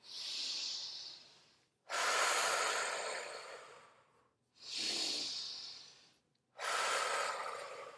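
Slow, deep breaths during a guided relaxation session, with two long inhale-exhale cycles, each a soft airy rush separated by short silent pauses, close and quiet with no talking.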